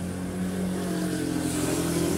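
Engine drone of a passing motorcycle with a low steady hum and a slight rise in pitch toward the end, fairly loud and close with no talk over it.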